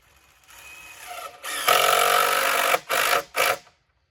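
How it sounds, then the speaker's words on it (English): A power drill drives screws into a wooden sawbuck built as a firewood bucking table. A rising whine leads into a long steady buzz, then two short bursts, close and fairly loud, with no talk. "Just putting some more screws in it to reinforce it."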